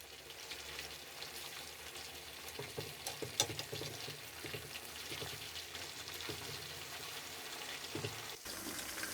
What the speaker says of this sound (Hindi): अब हम इसको दूसरी तरफ से भी फ्राई कर लेंगे।